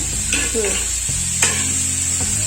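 Oil poured into a hot pan during home cooking in a Kannada kitchen, giving a steady close sizzle with brief stirring scrapes and utensil clicks, no voices.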